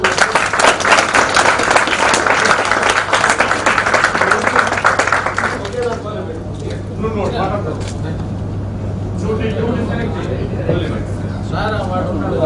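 A crowd at a 1987-88 campus school student reunion claps loudly for a classmate, dense applause for about six seconds that then fades to scattered claps and voices talking.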